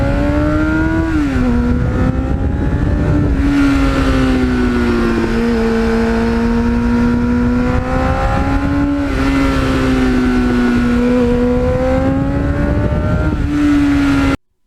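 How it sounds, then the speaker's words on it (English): A 1989 Kawasaki GPX750R motorcycle accelerates hard through the gears, its engine pitch climbing and then dropping at each shift in a steady repeating pattern, loud and close with no voices. "the sound as you go through the gears"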